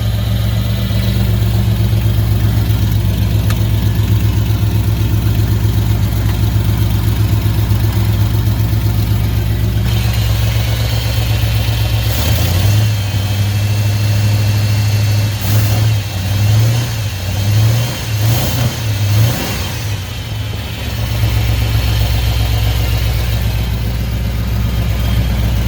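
A 1978 Ford truck engine with worn glass pack mufflers, loud and close, idling with a deep steady rumble before a series of throaty revs that rise and fall, then settling back to idle.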